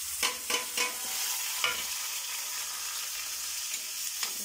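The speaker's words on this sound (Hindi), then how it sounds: "तो ये देखिए, हमारा प्याज भूनकर रेडी हो चुका है" A spoon stirs onions frying in a pan, with a few scraping strokes near the start over a steady close sizzle and no talking.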